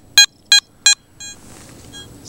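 Three sharp electronic beeps in even rhythm from a Garrett ATX metal detector powering on, then a fainter fourth tone fading into a soft steady hum.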